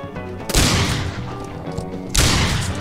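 Two loud gunshots in the Wild West game Outlaws of the Old West, each a sharp booming crack followed by a ringing tail, spaced about a second and a half apart.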